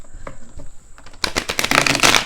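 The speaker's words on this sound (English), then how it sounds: "One more shuffle." A tarot card deck is shuffled in a quiet room, with soft riffling and handling at first and then a dense, close burst of papery card flicks in the second half.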